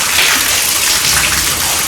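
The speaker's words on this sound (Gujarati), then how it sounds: "જબરદસ્ત વરસાદ છે." Heavy monsoon rain pouring outdoors, a dense loud steady hiss of drops hitting surfaces with no break and no voices.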